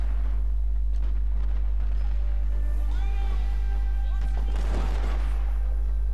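Scattered musket volleys from matchlock ashigaru infantry in a Total War Shogun 2 online battle, cracking in loose bursts over a constant low rumble, with a denser cluster of shots near the end.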